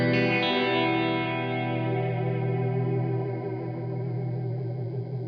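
Reverb with pitch modulation from a Source Audio Artifact uVerb pedal gives a sustained, wavering, chorus-like wash that rings steadily and fades slowly.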